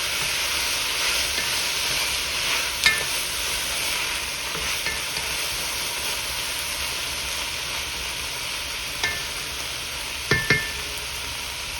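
Vegetables and sausage cook in a pot for jambalaya, giving a steady low sizzle throughout while the bottom is deglazed, with a few sharp spoon clinks and scrapes against the pot, mostly near the end.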